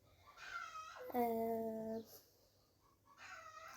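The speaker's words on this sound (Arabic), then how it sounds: "نتغاضى عن صوت فراخ الجيران" Neighbouring chickens cluck and squawk in a few drawn-out, bright calls with pauses between, fairly close over a quiet background.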